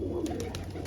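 Pigeons kept by a hobby breeder coo in low, soft murmurs over a steady background hum, a short close-up burst of bird sound with a few faint higher chirps.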